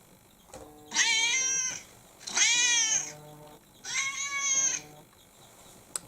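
Phone alarm tone that imitates a cat meowing, three loud, drawn-out meow calls in a row with short pauses between them, close to the microphone and heard with no talking.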